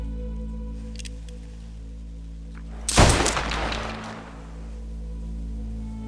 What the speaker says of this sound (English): I see you mumbling and firing off that pistol.